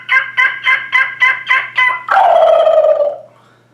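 A human voice imitates a wild turkey as a hunter's call: a rapid series of about seven yelp-like notes, then a drawn-out rattling gobble that fades away. It is loud and close.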